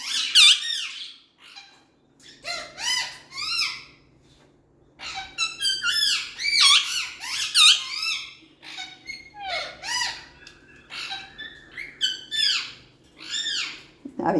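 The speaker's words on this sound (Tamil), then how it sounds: "மயில் சவுண்டு கொடுக்குதில்ல" A peacock gives repeated loud, harsh calls in quick clusters separated by brief pauses, sounding nearby over a quiet outdoor background.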